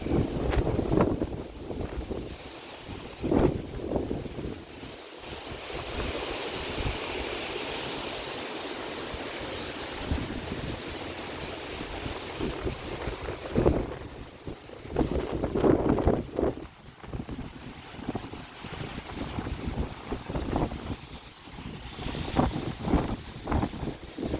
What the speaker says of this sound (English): The wind is actually kind of good because anything standing still will be exposed.